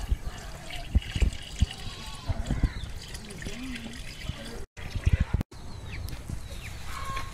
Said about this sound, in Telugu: కషాయాన్ని ఈ విధంగా 100 లీటర్ల నీటిలో కలుపుకోవాలి